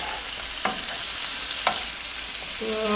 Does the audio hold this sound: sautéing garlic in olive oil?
yes